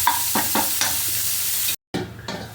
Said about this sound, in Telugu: ఉల్లిపాయలు మగ్గబెడతానండి. కొంచెం 2 minutes మగ్గాలండి